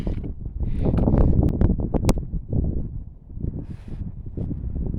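Gusty wind rumbles against the microphone in uneven surges, easing briefly in the middle before picking up again.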